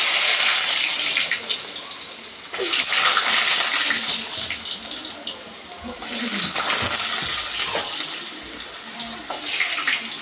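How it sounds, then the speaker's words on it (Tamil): Ready-made frozen french fries (finger chips) dropped into boiling hot oil set off a loud, continuous, close hiss and crackle of frying that surges and eases over several seconds. "இப்போ அதில் ஃப்ரெஞ்ச் ஃப்ரையை போட போகிறோங்க"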